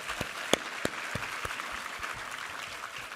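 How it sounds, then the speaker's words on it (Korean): Church congregation clapping after a Sunday sermon, fairly faint and scattered, with a few distinct louder claps early on over a soft continuous patter. "우리 하나님께 감사와 영광의 박수 올려드리겠습니다"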